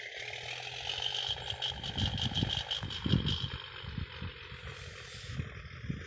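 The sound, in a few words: Pierce Enforcer fire truck engine revving, Fire Truck Simulator video game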